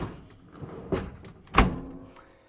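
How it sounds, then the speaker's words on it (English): A refrigerator door in a 2026 Dynamax Isata 4x4 RV is handled with a couple of soft knocks, then shuts with a firm thunk close by. "You can open up your 12 cubic foot, 15 cubic foot, 12 volt refrigerator from either door."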